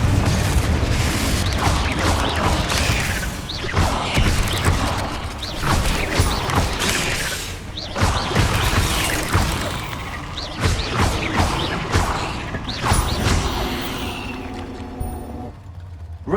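Confringo explosive spell in Hogwarts Legacy, with loud booming blasts and crashing impacts repeating through a dense stretch of combat noise, thuds and debris, fading toward the end.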